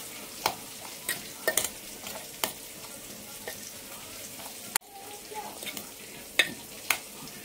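Chopped vegetables and salt are stirred and mixed for homemade shawarma, with scattered close scraping clicks and taps of a utensil against the bowl at an irregular rhythm over a quiet background.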